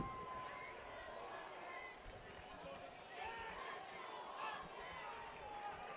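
Crowd noise at an Iowa high school football game between Saydel and Des Moines North, a steady distant murmur of spectators filling the stands, with a faint voice talking over it.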